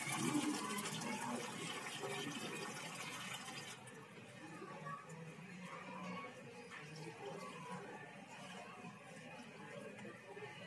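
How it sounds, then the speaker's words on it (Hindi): Water is poured into a pot holding a tulsi plant, a steady splashing gush that is loudest at first and continues throughout, with faint voices in the background. "इसमें भी पानी डाल दो।"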